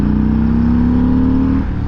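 Motorcycle pulling hard in third gear on a test ride along a road, a steady close engine drone rising smoothly in pitch for under two seconds before easing off.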